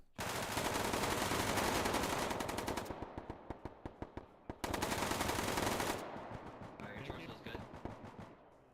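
Rapid bursts of automatic gunfire from the video game Bellum crackle in two long sustained volleys separated by a brief gap, then fade into scattered shots, while a commentator talks over the action.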